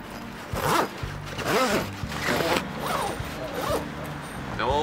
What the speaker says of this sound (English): When zipping the panels together, you can ensure that the zips are level before you start zipping.